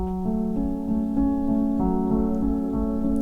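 Sustained piano notes of a piece from Final Fantasy IX ring together in a repeating broken-chord pattern with the sustain pedal, blurring into each other as they hold, played alone without voices.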